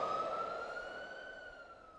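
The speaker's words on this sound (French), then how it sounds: "Le son lointain des premières sirènes me sortirent de ma torpeur." A distant siren wails in a single steady tone with faint overtones, gliding slightly as it holds, heard alone with no voices.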